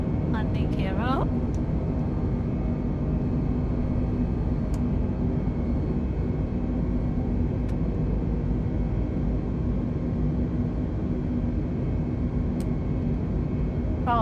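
Jet engines of an A320neo airliner in Microsoft Flight Simulator climbing just after lift-off, a steady loud broadband roar and rumble that holds throughout.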